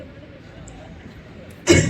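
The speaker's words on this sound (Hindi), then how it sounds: "माफ कीजिएगा, बोलते बोलते खांसी सी ले रही हूँ" A woman coughs once, sharply and loudly, near the end during a campaign office inauguration on a bitterly cold day, after a stretch of quiet room noise with faint murmuring.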